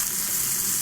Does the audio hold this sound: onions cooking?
yes